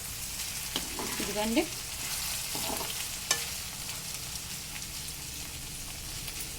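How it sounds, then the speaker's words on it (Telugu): Okra frying in a pan with salt, stirred with a broadband sizzle throughout and a few brief scraping strokes; one short spoken phrase. "ఇది చూడండి ఇలా బాగా కలుపుకోవాలి."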